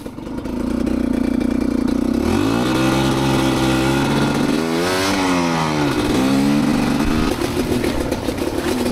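An enduro motorcycle engine runs loud and close, idling steadily before revving up and down through several throttle blips and gear changes, with no talk over it.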